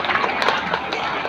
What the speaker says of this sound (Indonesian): tepuk tangan untuk Pak Idris tadi